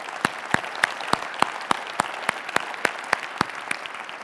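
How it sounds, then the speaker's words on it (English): An audience at a sponsored presentation applauds in steady, evenly spaced claps, each sharp and distinct, repeating about three times a second in a rhythmic beat. "I'd like to give you a hand of applause"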